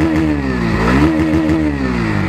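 A 2023 Bajaj Pulsar NS160 motorcycle with an underbelly exhaust revs at close range, the engine note rising and falling through a couple of quick throttle blips over a loud, steady idle rumble, with no talking.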